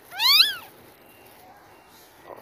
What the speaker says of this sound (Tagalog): Ang cute ng kuting.